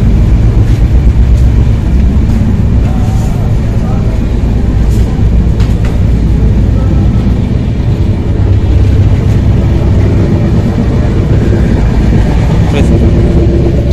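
Inside a moving train's pantry car, a dense, steady rumble and rattle of the carriage fills the whole stretch, loud and continuous, with people talking over it.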